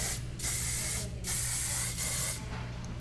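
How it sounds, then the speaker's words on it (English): Hairspray hisses onto styled hair in three close, loud bursts of aerosol spray separated by brief pauses, with a steady low hum underneath and no talk. "spraying it."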